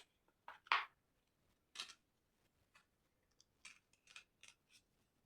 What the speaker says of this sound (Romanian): Aici puteți apăsa cu degetul sau din nou cu foarfecele